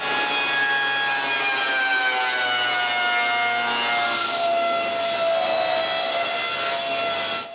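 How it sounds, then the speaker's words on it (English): A woodworking machine surfaces pine planks, giving a loud, steady whine with a sustained high ringing tone that holds throughout without pause. "we need to surface some pine planks"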